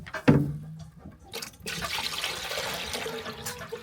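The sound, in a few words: water being poured for a chicken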